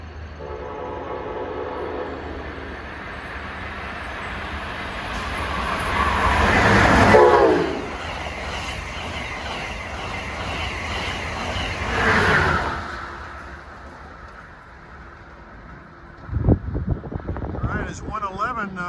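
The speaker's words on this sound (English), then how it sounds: "approaching at 7:31 is Amtrak 111 from New York to Washington" Amtrak 111 passenger train, bound from New York to Washington, rumbles past with rising and fading rail roar and clatter, swelling twice as cars pass, followed by a sharp horn blast near the end.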